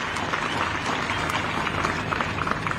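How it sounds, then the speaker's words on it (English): A crowd at the groundbreaking ceremony for the Mingomba Mine in Zambia applauds the investors with dense, continuous clapping from many hands at a fairly even level, with a few sharper claps standing out. "May we clap for the investors that have had to travel from a long distance to be here"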